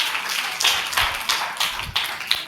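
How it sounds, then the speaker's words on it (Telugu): An audience claps hands in a church during a live Bible school session, a loud stream of overlapping claps with a few sharper, more prominent hits and no speech. "క్లాప్స్ కొట్టండి అందరూ"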